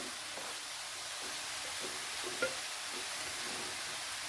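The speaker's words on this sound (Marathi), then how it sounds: "भाजी मस्तपैकी अशी परतून घेऊया" Mixed leftover vegetables stir-fry in a hot pan over a raised gas flame, giving a steady close sizzle with faint stirring scrapes and one brief clink, no talking.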